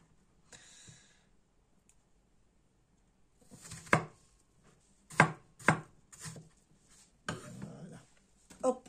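Knife chopping fruit into big cubes on a cutting board for a homemade fruit salad: a few separate, crisp thuds come close together in short bursts after a quiet start, near and moderately loud.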